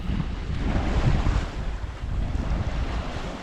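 Wind and water rush past a sailboat as it motors through the swell, a steady, loud roar with surging waves and microphone buffeting and no talk.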